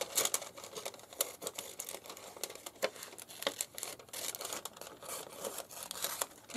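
Scissors snip through security-envelope paper being cut for doodle bug embellishments, a close, quiet run of crisp crinkling cuts and rustles.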